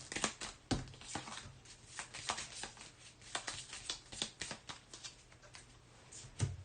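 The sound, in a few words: shuffling a deck of cards for a board game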